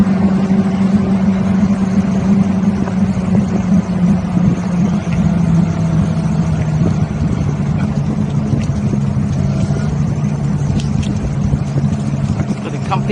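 An iSinwheel S9 Pro electric scooter rides on airless tires, giving a steady low rumble and a whirring hum mixed with road and wind noise. A voice talks over it now and then.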